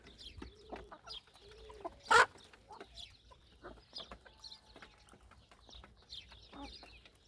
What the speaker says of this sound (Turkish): Tavuklarımız çıktı.